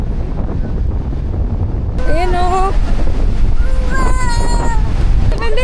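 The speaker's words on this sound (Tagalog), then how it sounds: "Lakas ng hangin. So, umuulan na din ulit." Strong wind buffets the microphone in a constant loud roar at the Japanese seaside during a typhoon, with people talking over the gusts.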